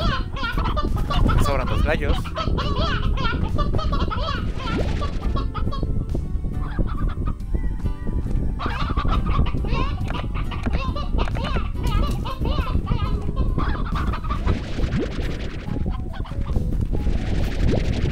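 Chickens cluck continuously in the farm simulation game Slime Rancher, loud and busy, with a child-like voice chattering over them throughout.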